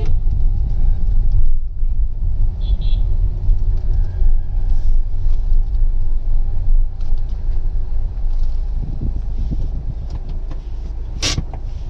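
A Tata Altroz car engine idles while parked, a steady low rumble held throughout with a brief faint click near the end.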